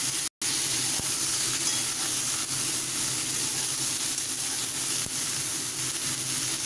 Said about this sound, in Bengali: এই তেলের মধ্যে কিন্তু আমি পটলগুলোকে ছেড়ে দেব। এবার পটলগুলোকে ভালোভাবে একটু ফ্রাই করে নেব।